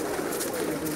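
A huge flock of more than ten thousand Pakistani pigeons in a Jeddah loft coos in a dense, unbroken blanket of overlapping calls, close and steady.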